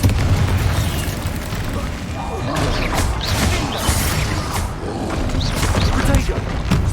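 Blasting-spell explosions in Hogwarts Legacy, loud booms and crashing debris bursts repeating through a busy spell-fight soundscape with a voice speaking over it.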